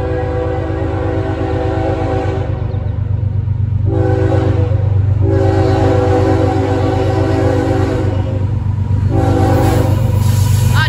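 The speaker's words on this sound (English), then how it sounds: "it's a CSX intermodal train" A CSX intermodal freight train passes up close and loud, its horn blaring in long sustained blasts with short breaks over the continuous rumble and rattle of the cars.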